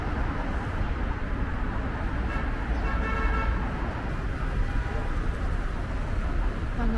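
Steady road traffic on Beijing's Second Ring Road near Yonghegong, a dense continuous wash of car engines and tyre noise with a brief horn toot and faint bird chirps in the background.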